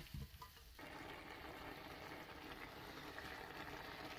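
Vegetables sizzle and fry steadily in a pan for a homemade vegetable kebab sandwich, a continuous close hiss after a few brief clatters at the start.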